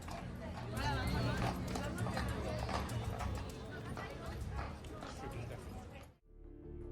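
A Royal Guard horse's hooves clop steadily amid a busy tourist crowd's chatter, the noise continuous and fairly loud, then dropping away abruptly near the end.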